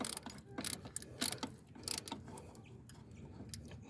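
A ratchet clicks in quick uneven bursts, tightening a bolt on the EGR valve sensor of a 2006 Town and Country van. Close and fairly quiet, with a metallic rattle between the bursts.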